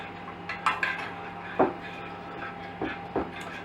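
Chicken marinade with strong mustard being mixed in a bowl, a few scattered clinks and scrapes of a utensil against the bowl over a quiet room, no talking.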